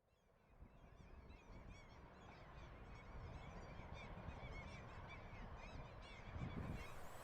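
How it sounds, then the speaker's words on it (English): Geese honking at a bird-rich coastal spot in the Scottish Highlands on the Black Isle, a busy overlapping chorus of repeated calls, moderately distant and steady, with no talk over it. "There are all sorts of birds here"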